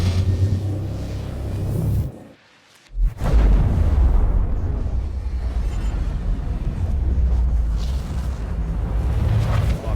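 A ship's quantum travel drive engaging in a space video game: a loud, continuous low rumbling roar that cuts out briefly into near silence, then surges back with a heavy whooshing boom and keeps droning.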